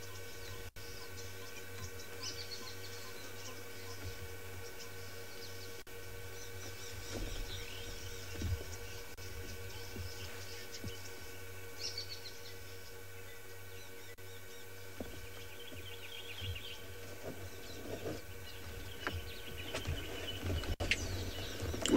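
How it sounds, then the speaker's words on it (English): Wild birds, including doves and barbets, call on an African safari: faint, scattered chirps and coos drift over a steady outdoor hum, with no one talking. "All sorts of birds are here, and I'm gonna go quiet for a little bit so you can listen to them"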